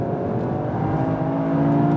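A Nissan GT-R Nismo accelerates hard out of a corner on a race circuit, its engine a loud, steady, close droning roar with no voices over it.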